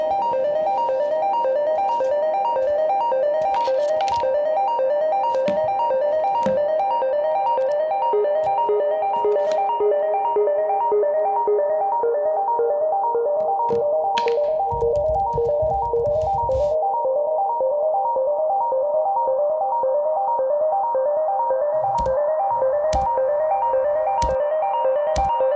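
A phone plays a steady, repeating electronic ringtone for an incoming message. The melody loops continuously and sounds loud and close, with a few faint clicks and knocks over it and no talking.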